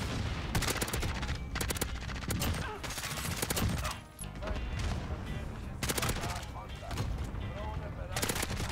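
An M13 rifle in its Honey Badger variant fires repeated bursts in Call of Duty: Modern Warfare, with rapid cracking automatic volleys in several clusters and brief gaps, loud and close, alongside some voice.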